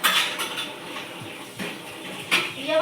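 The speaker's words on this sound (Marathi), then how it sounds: "भांडे घासायचं काम चालू आहे." Kitchen pots and utensils scrubbed and washed nearby, a continuous rough scouring with several sharper knocks and clinks of metal dishes at irregular moments.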